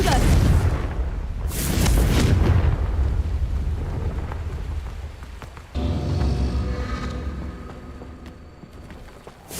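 A Confringo spell explosion in Hogwarts Legacy, a loud booming blast at the start rolling into a rumbling decay, followed by another thudding swell.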